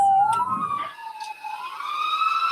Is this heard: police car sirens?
yes